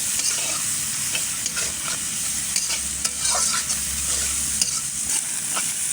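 Chopped onions fry in hot oil after potatoes, a loud steady sizzle broken by repeated scraping and clinks of a spatula stirring the pan, close and continuous without speech.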